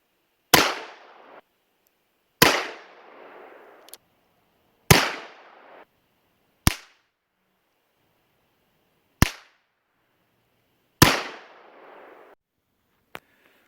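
Seven sharp .44 Colt revolver shots fired at a hard disk drive target, spaced a couple of seconds apart, each a loud crack with a short ringing decay, with no talking.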